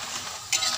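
Banana chip slices deep frying in hot oil, a dense continuous sizzle that briefly swells louder midway, heard close with no talking.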